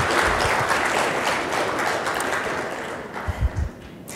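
An audience at a talk on UFO contactees and suppressed technology breaks into steady, dense applause that carries on for several seconds before thinning out toward the end.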